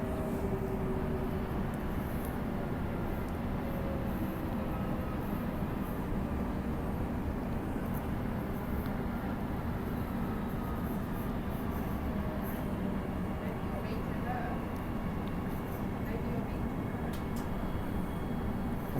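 A steady low rumble of a Transperth B-series electric train idling or moving slowly at Cockburn Central station, with broadband mechanical noise throughout and no clear voices.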